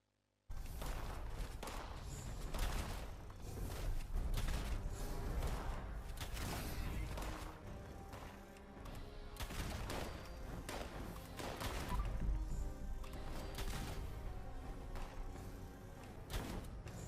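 Rapid weapon fire in Fallout 76 rattles out as dense repeated shots after a brief silent start, continuous volleys with short dips, fairly loud and close, with no talking.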